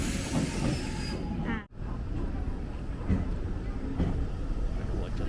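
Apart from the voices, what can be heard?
Rapi:t express train arriving at the station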